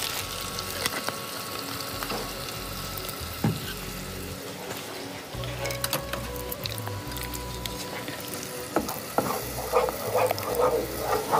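Ingredients are stirred and fried in a pan, giving a continuous low sizzle with scraping and clacks from the utensil, punctuated by occasional sharper knocks, under background studio noise.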